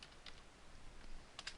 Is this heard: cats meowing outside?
no